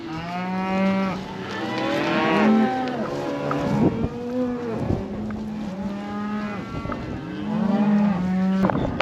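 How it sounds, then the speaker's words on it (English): Cattle on a farm mooing in a long series of drawn-out, overlapping low calls, loud and close, with several animals bellowing one after another and no talking. "Hey, cow."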